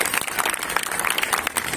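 Audience applause at an outdoor street play (nukkad natak) about nutrition: a brief, dense patter of many hands clapping at once, steady and moderately loud.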